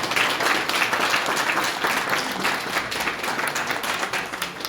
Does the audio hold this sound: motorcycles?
no